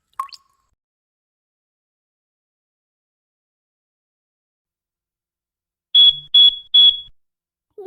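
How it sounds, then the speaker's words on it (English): A smoke detector with a low battery chirps three times in quick succession, sharp, high and close, following a long stretch of near silence. "That's the smoke detector. It keeps going off."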